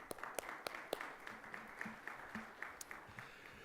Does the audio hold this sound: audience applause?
yes